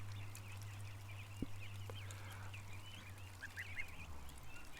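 Geese, including a Chinese goose, honk and squabble at a distance over a low steady hum, with faint repeated calls scattered through the clip.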